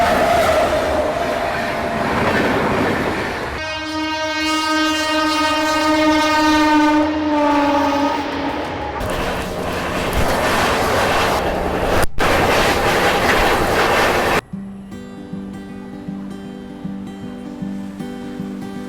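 An Indian express train, the Bhusawal–Surat service bound for Ahmedabad, blows a long, loud two-tone horn. The horn sounds over the steady roar of wheels and carriages, then cuts to a quieter, deeper rumble.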